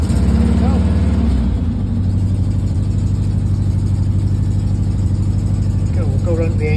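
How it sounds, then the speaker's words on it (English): A 1303S VW Beetle engine idling with a blowing exhaust, a steady low rhythmic chugging putter that runs continuously and close, with a voice talking over it. "Like I said, the exhaust is blowing."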